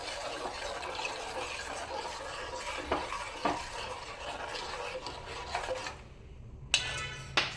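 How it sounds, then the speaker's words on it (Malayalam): A spoon stirs a custard powder mixture for bread pudding in a small bowl, giving a steady soft scraping and swishing with a few sharper clinks near the end. "ഞാനിത് ഇളക്കി കൊടുക്കുന്നുണ്ട്"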